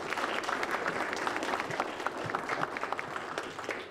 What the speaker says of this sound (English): a quick round of applause, please, for Ariana Van Cook for Because of Gramps